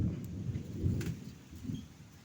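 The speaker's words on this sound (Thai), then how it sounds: "ฟ้าร้องนะครับวันนี้น่าจะมีฝนมานะครับ" Low, rumbling thunder rolls in the distance, soft and continuous, with faint patter of rain underneath, on a gusty, windy day.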